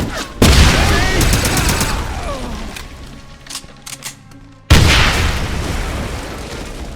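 Loud gunfire and explosions in the Wolfenstein video game: a heavy blast opens a stretch of rattling shots and debris, and after a quieter lull a second big boom hits close.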